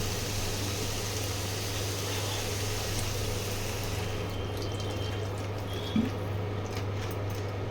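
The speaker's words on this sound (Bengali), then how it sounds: "জল দিয়ে দেবো।" Water poured into a cooking pan of frying spices for a bottle gourd shukto, a soft steady liquid rush over a low kitchen hum that fades partway through, with a small clink near the end.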